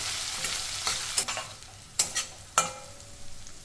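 Green chilli pieces and grated ginger are stirred in a cumin tempering for fasting-day potato bhaji, with a soft sizzle of frying and sharp, intermittent scrapes and clinks of a spoon against the pan.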